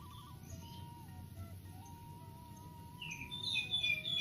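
A competition magpie robin (kacer), being bathed after a contest, gives thin chirps and a wavering whistled line, with brighter high notes near the end over steady background noise.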